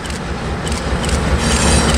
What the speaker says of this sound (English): Here comes a eastbound manifest departing out of Pepper.